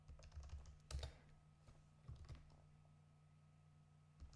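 Faint clicks of typing on a computer keyboard come in a few short clusters, close but very quiet, with long still gaps between them.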